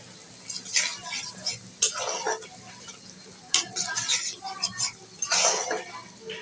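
A spatula stirs and scrapes spice paste with cumin paste and ground nuts and poppy seeds as roast masala fries in a pan, irregular metallic scrapes and sizzling bursts at close range, no talking.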